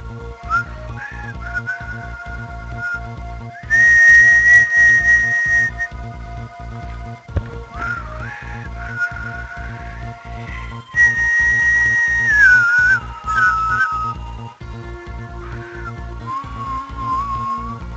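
A person whistling a high, wavering tune in short melodic phrases and sliding notes, heard close and clear over a faint steady electronic background from a video game.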